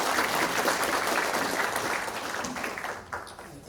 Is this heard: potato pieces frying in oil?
no